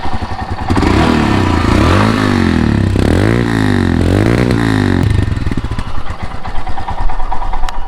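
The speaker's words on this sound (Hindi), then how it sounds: "ये बात करते हम चलते हैं towards the exhaust note of this bike" A Royal Enfield Himalayan BS6 motorcycle's exhaust rumbles loud and close, with a deep thumping single-cylinder idle and a few throttle blips that rise and fall in pitch, ending in a rougher, clattery idle.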